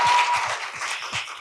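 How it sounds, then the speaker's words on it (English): A book launch audience gives a short burst of clapping, fairly close and loud, lasting only a moment before fading. "And applause, please."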